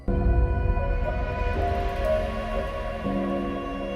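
Music from the video game Ori and the Blind Forest, a dense, continuous orchestral texture of sustained tones and shifting harmonies, steady and fairly loud with no talking.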